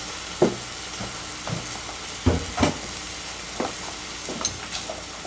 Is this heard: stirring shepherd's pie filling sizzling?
yes